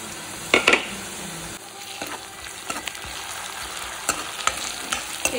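Garlic paste frying in a steel pan with onions, giving a soft steady sizzle broken by a few sharp stirring clinks and scrapes, close but fairly quiet.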